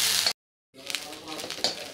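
Red chillies and curry leaves hit a hot pan with a bright, loud sizzle that cuts out briefly and then resumes as a crackling, spitting fry. A voice speaks over part of it.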